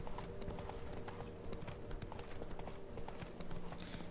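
A horse trots in The Witcher 3 with a steady, rapid clip-clop of hooves, moderately close and continuous, over a low background drone of in-game ambience.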